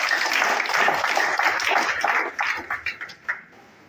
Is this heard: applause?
yes